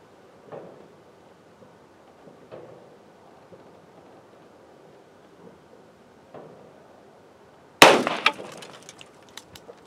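.410 shotgun fired from its lower barrel during personal defense testing: a single loud, sharp blast with a ringing tail near the end, after a stretch of quiet with a few faint thumps.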